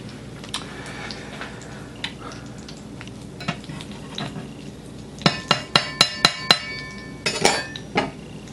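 A fish patty fries in a skillet on medium heat, a soft steady sizzle with scraping and a run of sharp taps and clicks from a utensil against the pan near the end.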